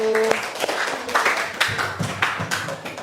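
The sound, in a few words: audience clapping for presenting group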